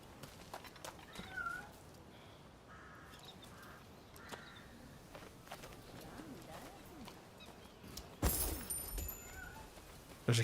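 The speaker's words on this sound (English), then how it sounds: "There's a cat over here somewhere." A cat meows somewhere in the Rise of the Ronin game world, faint and intermittent beneath game ambience, crow caws and distant hoofbeats, with a louder burst of noise near the end.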